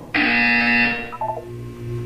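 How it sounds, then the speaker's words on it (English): A loud, harsh buzzer sounds once in the Portal 2 video game, a single sustained electronic blare of about a second that cuts off and leaves quieter background tones. "You will hear a buzzer."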